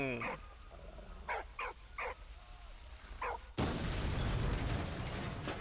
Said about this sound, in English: Take the dynamite.